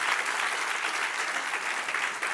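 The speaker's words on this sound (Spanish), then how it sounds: "Dale un aplauso al que vive." A church congregation applauds in a dense, steady burst of clapping. It fills the room evenly for a couple of seconds and is loud and sustained.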